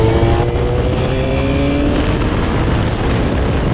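A 1990 Honda VFR400R NC30 motorcycle engine revs hard at high RPM, a loud continuous wail close by with rising and falling pitch sweeps and no pauses throughout.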